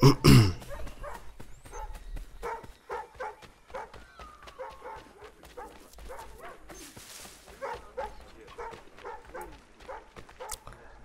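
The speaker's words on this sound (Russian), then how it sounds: "Что собака здесь у могилы делает?" A dog by a grave in Assassin's Creed III gives repeated short barks and yips with some whimpering, fairly close and fading into scattered quieter barks over time.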